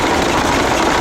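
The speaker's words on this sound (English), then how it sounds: "so that's a diesel engine, isn't it?" A Gardner 5.5 litre, 71 horsepower diesel engine from an early Gardner truck runs close by, a loud, steady low rumble with no talk, shown at a classic car and steam show.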